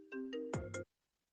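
A mobile phone ringtone plays a short melodic run of bright electronic tones, fairly close, ending abruptly after under a second with no talk over it.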